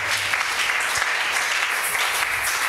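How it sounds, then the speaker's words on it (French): A church congregation applauds and cheers loudly in praise, dense steady clapping with shouts filling the space without pause. "Est-ce que quelqu'un peut acclamer très fort le Seigneur Jésus?"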